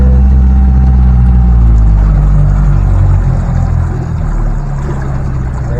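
A Yamaha 70HP outboard motor on a Macgregor 26X boat running at 1,000 RPM at about 3 miles an hour, a loud, steady low rumble with a droning hum, close up and with no voices.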